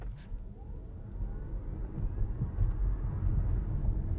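A Ford Mustang Mach E electric car accelerating at full throttle, a low rumbling road and motor noise that swells steadily louder, heard from inside the car with no talking.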